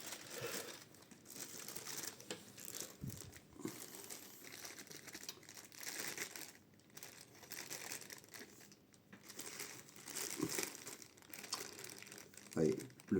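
Close, soft paper crinkling and rustling while a 1/6 scale Aphrodite figure by Foc Studio is unwrapped, irregular crackles with quiet pauses and a person speaking intermittently.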